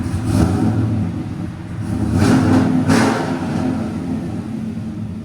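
A cammed Chevy 5.3L V8 with headers and Flowmaster 50 exhaust idles with a choppy, lumpy rumble, then takes several short throttle blips, each a quick loud roar that falls back to the loping idle.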